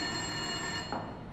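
An old telephone bell rings in a brief steady burst, a bright sustained jangle heard alone just before it stops.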